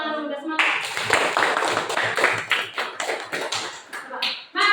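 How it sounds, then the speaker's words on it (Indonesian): A primary school class clapping hands together, with quick rhythmic claps that build into a lively burst and come after brief voices at the start and end. "Coba tepuk tangan dulu, udah semangat."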